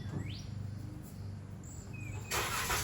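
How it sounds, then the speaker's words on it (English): A car engine cranks and catches after a quiet stretch with faint crickets and birds outdoors, then settles into a steady idle near the end. "I'm gonna start up the car"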